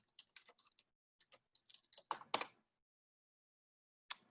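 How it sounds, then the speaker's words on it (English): Quiet typing on a computer keyboard: a run of light, irregular key clicks in short bursts, then a couple of louder taps, a pause, and one final keystroke, all close and with no voices. "So I'm going to type that in."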